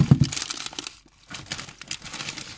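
A plastic bag of corn flour crinkles and rustles as it is handled in a pantry cupboard, in close bursts of crackling with a short pause midway.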